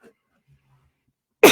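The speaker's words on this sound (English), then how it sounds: "Excuse me, I've had a cough this week." One loud, close cough bursts out abruptly at the end after near silence.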